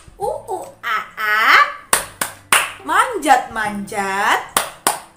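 Children's monkey clap game: steady rhythmic hand claps keep time under lively sung chanting and playful voices.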